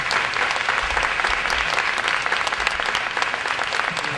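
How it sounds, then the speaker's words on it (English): Sustained audience applause for the judges at a world culture folk dance competition, a dense, steady wash of many hands clapping throughout with no talk over it. "Let's give our judges one more time a round of applause."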